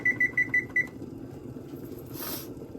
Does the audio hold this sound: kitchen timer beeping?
yes